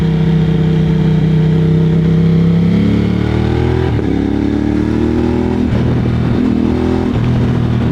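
A Moto Morini X-CAPE 1200 motorcycle engine drones loudly while riding, its pitch climbing, then stepping through smooth downshifts without the clutch. The engine stays close and continuous under wind noise.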